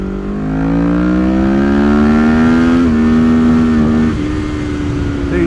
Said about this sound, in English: when I twist the throttle, it responded immediately, and also when I shifted while wide open throttle, it also responded immediately and didn't bog